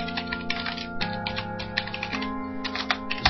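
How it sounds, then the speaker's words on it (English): Keys clatter on a computer keyboard during a Google search, a quick run of close, crisp clicks over a steady tonal background hum. "type in faceting diagrams"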